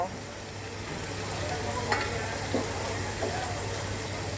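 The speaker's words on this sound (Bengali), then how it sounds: "এখন আমি আরও কষাবো ভেজে রাখা আলু আর পটলটা দিয়ে দেব" Spice paste sautés in oil in a pan, a close, even sizzling hiss with a low steady hum beneath and a few sharp stirring clicks.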